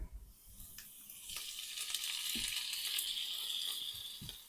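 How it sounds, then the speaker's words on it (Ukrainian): Steady sizzling of onions and porcini mushrooms frying in a pan, fairly quiet, with occasional soft knocks of stirring. "Цибуля смажиться також дуже швиденько, головне її не зачорнити. Додаю гриби."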